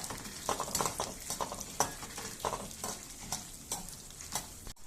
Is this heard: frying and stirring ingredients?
yes